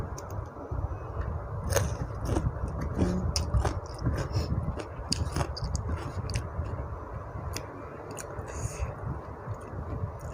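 Close, quiet chewing and biting while someone eats rice mixed with fermented fish chili paste, fried frogs and fried chicken, with soft wet mouth sounds and small clicks throughout.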